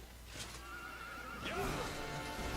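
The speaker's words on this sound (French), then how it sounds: "Je pense qu'il va falloir récupérer les deux chevaux" A horse whinnies in the Dragon Quest XI video game, one rising and falling neigh that starts faintly and is repeated louder near the end over low background hum, with no talk.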